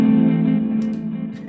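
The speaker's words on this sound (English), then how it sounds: "I double-clicked a big reverb there." A 6L6-powered guitar amp tone rings out with a fat, rounded sustained note drenched in big reverb, loud and close, decaying with a long wash and a few faint string noises.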